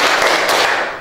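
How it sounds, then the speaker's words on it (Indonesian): Indonesian primary school class clapping together, a dense burst of hand claps filling the whole second at close range. "Ayo kasih tepuk hebat."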